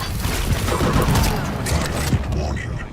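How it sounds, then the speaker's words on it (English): A hefty Tri-Bolt weapon in a video game firing explosive bolts in three-shot bursts, dense rapid gunfire-like bangs and thuds close up, with narration over it. "This hefty hulk can fire bolts in 3-shot bursts, and once lodged, the bolts sit for a solid second before finally exploding"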